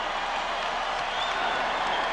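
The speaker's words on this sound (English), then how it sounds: "The crowd is into it." An arena crowd at an NBA playoff game between the Chicago Bulls and the Orlando Magic, with a steady wash of distant applause and crowd noise that holds for a couple of seconds.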